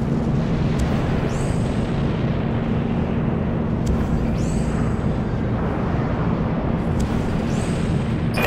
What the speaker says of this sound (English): Launching Vulture missiles. Firing broadside.